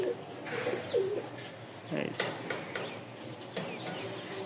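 Soft cooing of domestic pigeons, a fancy feather-footed breed kept in pairs in Mirpur, Dhaka, comes in short low murmurs that repeat several times, with faint clicks and rustles around them and no clear talk.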